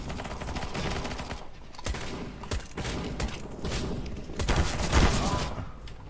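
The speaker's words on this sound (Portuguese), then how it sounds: "Eu tô com uma pistolinha que faz tchum tchum." Rapid bursts of gunfire from a Counter-Strike match run through the whole stretch, dense and fairly loud, with sharper shots and a heavier blast near the end and no talk over it.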